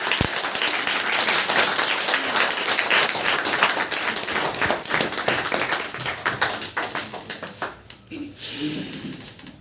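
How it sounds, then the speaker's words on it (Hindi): Sustained crowd applause fills a business meeting hall, dense clapping from many hands, loud and steady before thinning into scattered claps near the end. "बैठाने के लिए भी ताली बजानी पड़ती है सर को"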